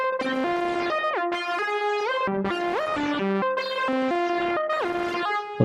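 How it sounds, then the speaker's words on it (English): Spectraphon synthesizer module patch with its envelope opened for brighter harmonics: a loud, repeating pattern of gliding tones that bend up and down, bright and buzzy, with a steady rhythmic pulse and no talking. "if we open up the envelope, we get a little more of the harmonics coming in"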